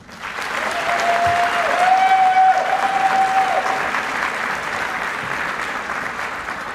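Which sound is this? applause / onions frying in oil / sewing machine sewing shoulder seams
applause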